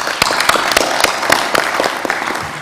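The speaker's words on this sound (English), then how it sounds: "So thank you, with a round of applause." Applause from the audience at a health ministers' conference in Lilongwe, Malawi: dense, close, steady clapping with sharp individual claps standing out, continuing throughout without speech.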